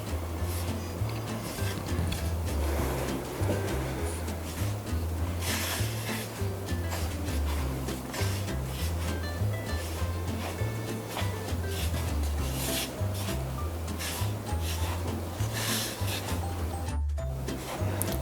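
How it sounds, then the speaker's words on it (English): Hands knead and squeeze meat pie dough of batter mixed with flour and dry ingredients, a steady, close, rhythmic rubbing and squishing that runs on without talk. "I'm going to massage it so it mixes properly"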